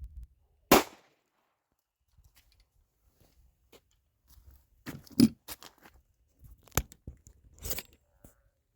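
A Glock 27 firing a UMC 180-grain .40 caliber jacketed hollow point round: one sharp, close report early on, followed by scattered clicks and handling knocks, with no talk.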